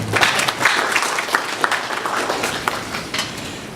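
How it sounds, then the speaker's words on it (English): Audience applause at a conference panel, loud and continuous, a dense crackle of many hands clapping at once for the full few seconds, with no voices over it. "Ladies and gentlemen, a round of applause for him."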